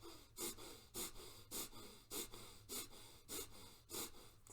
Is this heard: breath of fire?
yes